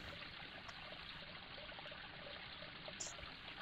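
Steady rushing and trickling water from a waterfall near an entrance in a machinima game environment, a continuous even wash with no talk.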